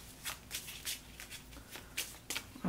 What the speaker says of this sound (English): I want one more shuffle.